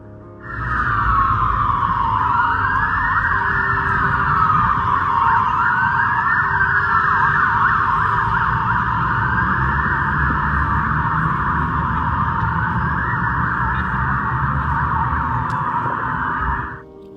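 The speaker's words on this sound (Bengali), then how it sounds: "এই ধরনের পুলিশ বাইকের সাইরেন কানে অহরহ ভেসে আসে" A loud police motorcycle siren wails continuously at close range in central London, its rising and falling tone steady for the whole stretch before cutting off.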